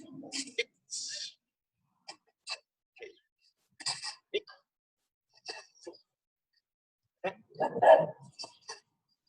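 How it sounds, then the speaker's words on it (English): A dog barks in short scattered bursts in a quiet indoor space during a home naginata session, with a person talking between and over the barks. "Sorry, my dog."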